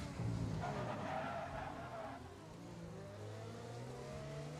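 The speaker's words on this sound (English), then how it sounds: "MJ's just having a massive lock up in towards turn 4" A tyre lock-up in an F1 sim racing game on a PC, at the Chinese Grand Prix, gives a loud, squealing skid over a howling race-car engine, then the engine note drops and steadies.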